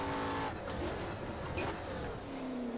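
A race car in the rFactor sim racing game revs and drops through the gears as it brakes hard. The engine note falls, then tyres squeal briefly as the wheels lock up, all steady and close.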